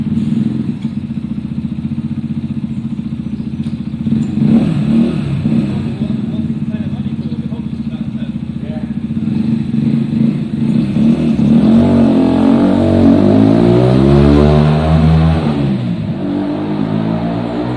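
A Zontes motorcycle after an idle fix runs steadily without cutting out, its engine note rising and falling with revs under loud wind, and a voice talks over it.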